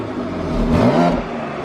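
BMW X3M Competition exhaust in economy mode with the valves closed, a muted mid-pitched engine note that swells briefly in a short rev and settles back, close and without speech.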